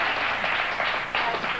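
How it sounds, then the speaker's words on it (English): A studio audience applauds on a live morning talk show, a dense, continuous wash of clapping that stays loud for the whole moment. "We're going to be fishing for lots of applause in the next 59 minutes"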